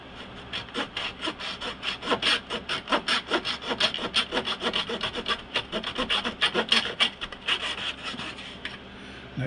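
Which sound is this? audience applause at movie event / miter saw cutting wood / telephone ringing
miter saw cutting wood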